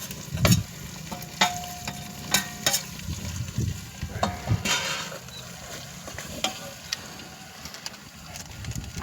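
Mutton frying with browned onions and ground masala over a wood-fired village stove, stirred with repeated scraping clatters against the pot over a steady sizzle; birds coo faintly in the background.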